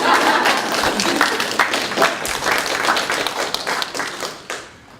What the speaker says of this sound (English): now you clap